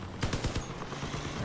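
Rapid bursts of gunfire from the vehicle-combat game Crossout, a quick string of sharp shots in the first half followed by a steadier rumble of battle noise.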